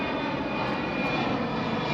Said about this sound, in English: And there's a plane flying overhead.